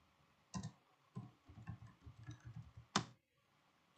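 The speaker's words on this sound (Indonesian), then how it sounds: "sekarang kita akan coba mengetikkan ipconfig release." Keys clicking on a computer keyboard as the command ipconfig release is typed, a run of soft close taps with two sharper, louder strikes standing out before a brief quiet at the end.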